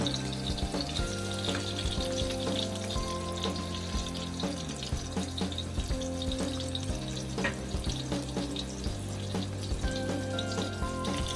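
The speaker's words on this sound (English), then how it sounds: "after cooking the salmon for 4 minutes on each side, you just want to go ahead and remove it from the pan" Salmon sears in a pan over medium heat, a steady, fairly loud sizzle that runs throughout under tonal background music, with no talk.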